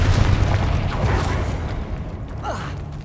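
A Confringo spell detonates in Hogwarts Legacy: a loud booming blast that rumbles and slowly fades, followed by a faint swooshing magical effect.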